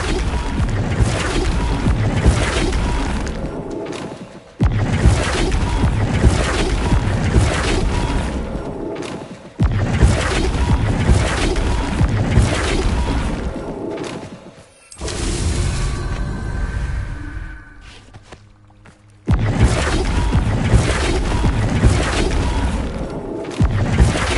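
Spell effects cast in the video game Hogwarts Legacy come as loud, booming blasts and crashes in long bursts of several seconds, separated by short lulls with quieter rumbling and clatter.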